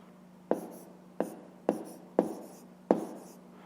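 Pen or pencil writing a fraction by hand on paper, five short distinct scratchy strokes spaced about half a second apart, close and fairly quiet against a faint hum.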